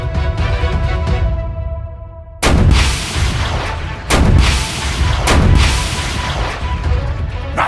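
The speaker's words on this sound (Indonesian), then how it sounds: "Rasakanlah tembakan basokaku ini mobil anomali" Three heavy, booming video game bazooka blasts go off a second or two apart, each hitting hard and then rumbling away, over a steady electronic hum.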